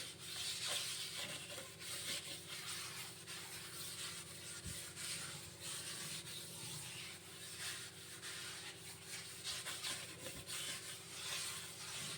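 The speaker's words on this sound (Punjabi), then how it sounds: "ਆਪਾਂ ਨੇ ਨਾ ਇੱਥੇ ਸਕਰੱਬ ਦੇ ਉੱਤੇ ਵਿਮ ਲਗਾ ਲਈ ਤੇ ਹੁਣ ਆਪਾਂ ਸਾਰੇ ਇਹ ਚੰਗੀ ਤਰ੍ਹਾਂ ਨਾਲ ਸ਼ੈਂਕ ਦੇ ਉੱਤੇ ਸਾਫ਼ ਕਰ ਦਾਂਗੇ" A kitchen sink is scrubbed with a scrubber and Vim dishwashing cleaner. The rubbing is faint and continuous, with repeated back-and-forth strokes and no talk.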